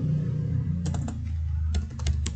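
A quick burst of keystrokes on a computer keyboard as a search is typed, a handful of light clicks in two short clusters over a low steady hum.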